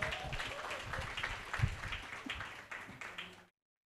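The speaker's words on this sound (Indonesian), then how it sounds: "Sekali lagi beri aplaus untuk Bung Rocky Gerung." Audience applause for Rocky Gerung at a talk event, a steady wash of clapping from a crowd lasting about three and a half seconds before cutting to silence, with some voices mixed in.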